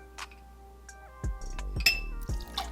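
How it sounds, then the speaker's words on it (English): Vodka measured into a mixing glass for an espresso martini, with a few sharp glassy clinks and knocks and a brief trickle of liquid, close and distinct against a quiet background. "and we'll add 1 ounce of vodka"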